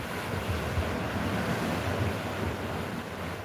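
Ocean surf rolling onto the shore at São Martinho do Porto, a continuous broad wash of water and wind noise, loud and close, without any voices.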